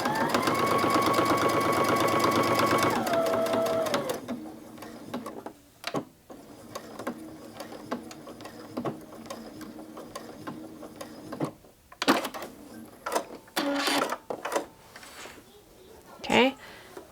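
A sewing machine stitching binding on a quilted mug rug runs in a steady whirring burst for several seconds, then stops, followed by scattered handling clicks and rustles with a person talking.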